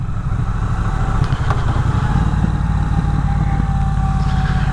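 Triumph Bonneville Bobber motorcycle engine running steadily nearby, a loud, deep rumbling idle with a pulsing throb that holds even throughout.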